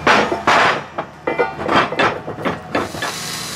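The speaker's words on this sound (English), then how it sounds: "He's got to hit that with a hammer before it cools off." Hammer blows ring out against hot metal in a rapid, uneven run of sharp clangs and thuds, loud and close, with a hissing wash under them.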